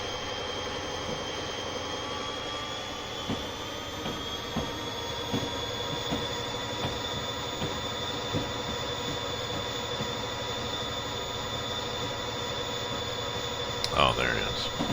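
A New Jersey Transit train in Train Simulator 2020 rumbles steadily with a constant engine drone and faint wheel squeal, holding level throughout before a brief louder clatter near the end.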